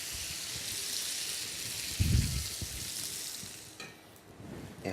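Beef pan juices sizzle as water is poured in to deglaze the pan, a steady broadband frying hiss with a louder burst of bubbling near the middle, close and continuous without speech.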